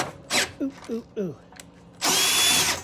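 Short voiced sounds and clicks come first, then a Makita 18-volt cordless power drill starts up loud and close and keeps a steady whirring whine to the end.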